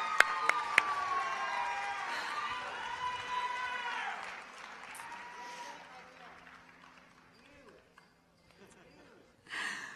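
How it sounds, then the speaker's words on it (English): Applause and cheering from a crowd for student speakers at a high school graduation ceremony, a broad roar with whoops that swells loudly, then fades to quiet murmurs before a brief burst at the end. "One more round of applause."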